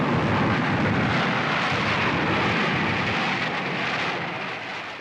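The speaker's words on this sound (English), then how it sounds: "An airstrike is called in." Aircraft roaring in on an airstrike during the Vietnam War, a loud, dense, broadband rumble that holds steady and then fades slightly toward the end.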